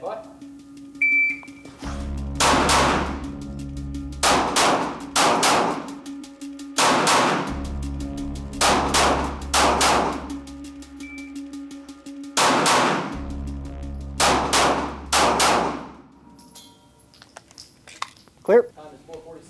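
Shooting during a close quarters house-clearing drill, two shots per target: sharp gunshot bursts come in spaced clusters, loud and near, against a steady low background hum, with a faint voice now and then.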